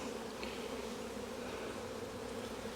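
Honey bees droning steadily inside an open hive during a queen-cage check, a dense continuous buzz close to the ear with no pauses and no voices.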